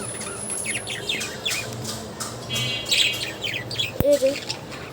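Many birds chirp and tweet in a lively, overlapping chorus, with a sharp knock near the end and occasional faint voices in the background.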